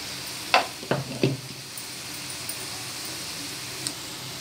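Taro root (arbi) fries in a pan with an even, low hiss, broken early on by three quick clacks of stirring, then settles into a quiet continuous sizzle.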